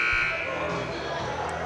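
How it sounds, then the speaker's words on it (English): Game buzzer at a boys' varsity high school basketball game in a gym, a loud sustained electronic tone under crowd noise and commentary. "And there's the buzzer"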